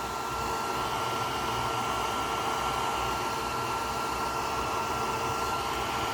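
Dryer blowing a loud, steady rushing stream of air to dry glue on leather in a leathercraft workshop, continuous and close with no talk.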